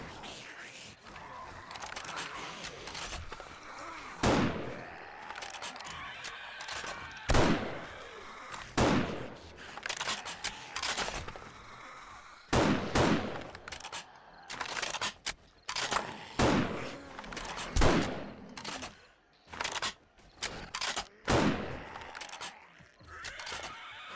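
Gunfire in the zombie survival game 7 Days to Die during a horde night, sharp shots spaced irregularly over a murky background of game noise and occasional voices.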